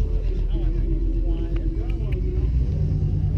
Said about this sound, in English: That car sounds really nice.